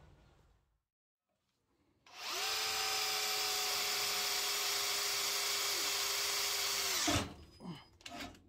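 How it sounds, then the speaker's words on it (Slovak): A Metabo SB 18LTX BL cordless drill, set to impulse mode, drills into steel with a loud, steady, high-pitched whine for about five seconds before spinning down, followed by a few faint clicks. "Taktiež vyskúšame impulzný režim na vŕtaní do ocele."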